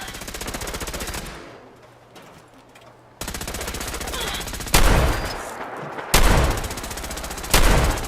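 Rapid automatic gunfire in the Fallout 4 video game comes in repeated bursts of loud, fast shots separated by short pauses, with a few heavier blasts standing out between them.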